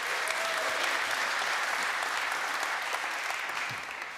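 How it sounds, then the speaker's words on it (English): Steady audience applause from a crowd at a creative coding talk fills the whole stretch as a dense even wash of clapping that eases slightly toward the end. "you deserve a round of applause"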